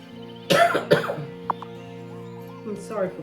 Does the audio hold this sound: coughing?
yes